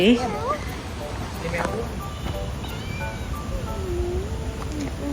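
A cat meows a few times, high and drawn out, on a university campus in Guangzhou, China, mixed in with people talking nearby and a steady outdoor background hum.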